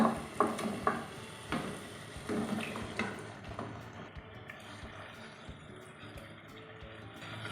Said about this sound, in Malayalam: ഇനി നമുക്ക് നമ്മുടെ ചിക്കൻ ഇതിലേക്ക് ഇട്ട് കൊടുക്കാം